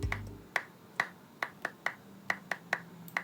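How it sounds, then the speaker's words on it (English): A crisp clap sample loops in a Soundtrap music session, sharp isolated hits repeating in an uneven rhythm, about a dozen dry snaps with short decays and no voices. "Nice little clap."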